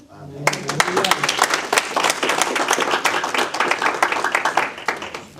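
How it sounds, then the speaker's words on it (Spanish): A church congregation at a Bible study breaks into lively applause, many hands clapping in a dense, sustained burst that starts abruptly after a brief voice and continues strongly throughout. "hermanos, denle un aplauso al Señor."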